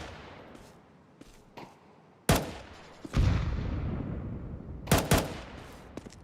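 Gunshots ring out in a Counter-Strike match between FURIA and 3DMAX, a few sharp, loud cracks spaced apart, including a close pair near the end, over a low rumbling game ambience.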